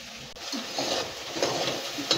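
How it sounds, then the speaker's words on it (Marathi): Okra frying in a pan for bhendi bhaji is stirred with a spatula, giving soft scraping strokes over a low, steady sizzle. "4-5 मिनटं आपल्याला असं खालीवरी 2-2 मिनटाला असं हलवीत राहायचं आहे"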